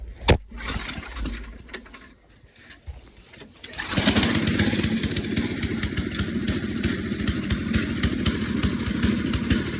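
A salvaged snowblower's small engine sputters and coughs, then catches and runs loudly and steadily with a fast, even chugging rhythm.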